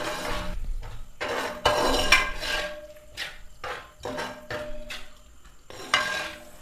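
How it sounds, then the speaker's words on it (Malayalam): Ada being stirred with jaggery in a pan while making ada pradhaman, a series of scraping, knocking strokes of a spoon against the pan in an irregular rhythm, close and moderately quiet. "അടയും ശർക്കരയും ചേർത്ത് നന്നായിട്ടൊന്ന് മിക്സ് ചെയ്തെടുക്കാം"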